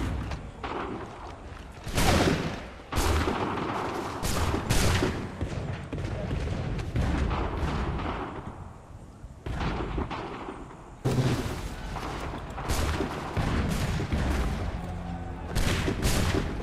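Musket volleys crackle and boom repeatedly in a Revolutionary War battle in Assassin's Creed 3, dense overlapping bursts of gunfire with brief lulls across a long stretch of loud combat.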